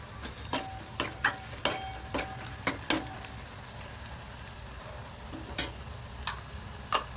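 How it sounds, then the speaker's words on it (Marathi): Onion sizzles in hot oil with mustard seeds and cumin, a steady low frying hiss broken by sharp popping crackles at irregular intervals. "कांदा परतालाय चांगला अगोदर मोहरे टाकून द्यायचे थोड्या जिरे"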